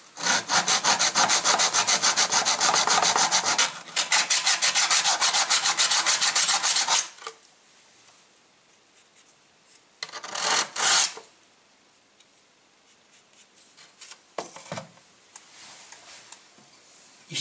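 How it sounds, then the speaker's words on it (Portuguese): Spine of a Mora Clipper knife blade rubbed on a coarse sharpening stone, loud rapid rhythmic rasping strokes for several seconds, then a few short isolated scrapes with quiet gaps. "Posso usar uma pedra aqui um pouco mais grossa."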